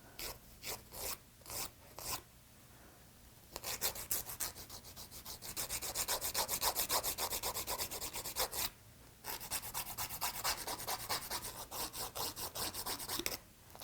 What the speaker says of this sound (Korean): 이렇게 비벼서 작업 속도를 좀 더 빨리 진행을 해주시면 될 것 같아요